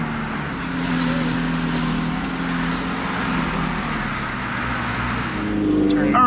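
A McLaren 765LT and a tuned McLaren 720S supercar idle and rumble nearby at an outdoor car meet, a steady loud engine drone that swells near the end, with people talking over it.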